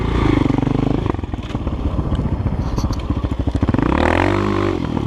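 A GEON X-Road 250 PRO motorcycle ridden along a forest track, its engine loud and close with a steady drone that dips and then climbs again as the rider revs.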